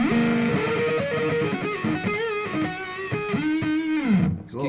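Electric guitar played through a St. Germanium fuzz pedal, giving a thick, distorted, sustained tone with bent and sliding notes that keeps on steadily throughout, with no talking over it.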